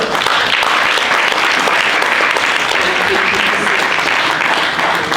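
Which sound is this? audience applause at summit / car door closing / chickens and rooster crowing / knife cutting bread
audience applause at summit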